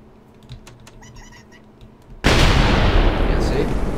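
A Minecraft TNT cannon built with a barrel fires: a few soft clicks and taps first, then a sudden loud blast that leaves a broad roaring rumble trailing to the end.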